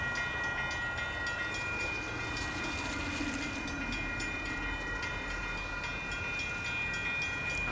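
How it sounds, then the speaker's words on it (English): A Union Pacific train rolls past at Fondren Road and South Main Street in Houston, Texas, a loud, steady rumble with a faint rhythmic clatter of wheels on rails and a high squeal running throughout. "Here comes another train, ladies and gentlemen."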